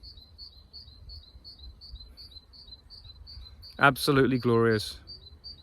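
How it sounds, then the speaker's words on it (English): Outdoors near hedges, a high, regular series of faint chirps pulses steadily, like an insect or small bird, before someone briefly speaks over it close to the microphone. "It's absolutely wonderful to just pause and just hear those birds singing"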